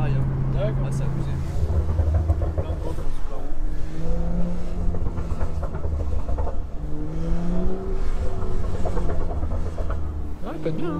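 BMW M2 with a Milltek exhaust, around 400 hp, drifting, its engine droning and rising and falling through revs continuously, heard from inside the car with occasional talk over it.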